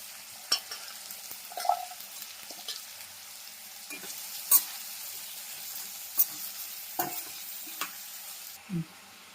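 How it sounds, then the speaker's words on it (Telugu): Onions and green chillies fry in hot oil in a pan for a Telugu-style ivy gourd masala curry, giving a steady soft sizzle broken by several sharp clinks and scrapes of a stirring spoon, with no voices. "ఉల్లిపాయలు అయితే యాడ్ చేస్తున్నాము అలానే దాంట్లోనే పచ్చిమిర్చి కూడా యాడ్ చేస్తున్నాం"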